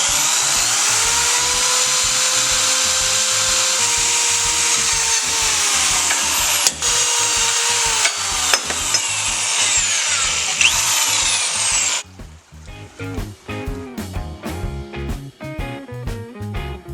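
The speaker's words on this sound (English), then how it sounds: "Now I could screw in the holes." Power drill driving screws into the holes of a metal bracket, a loud continuous whine with pitch that shifts under load and brief stops, then a rapid stuttering burst of short ratcheting pulses toward the end.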